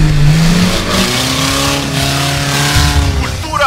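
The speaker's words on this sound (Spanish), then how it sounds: "donde los pilotos nos demostraron la fuerza de sus motores" Engines of 4x4 rally cars at a border off-road event rev and roar loudly and continuously, with pitch rising and falling and some tire squeal near the end.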